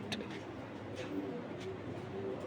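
Pigeons at a racing-pigeon farm coo steadily in low, overlapping murmurs, close and continuous, with faint chirps and other birds scattered in the background.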